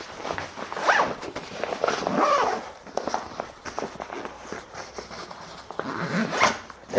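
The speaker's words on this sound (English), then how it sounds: "And zipped up just like that." A scuba travel bag being zipped up while packing dive gear, several quick rasping zipper pulls with handling rustle between them, close and clear, no talking.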